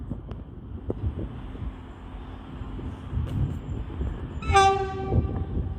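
A passenger train passing through Doncaster station, its rumble and wind noise running steadily, then a loud, clear horn blast near the end, with no voices.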